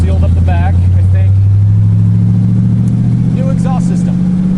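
A car engine rumbles deep and steady through a new exhaust and muffler close by, a low droning hum with people talking over it.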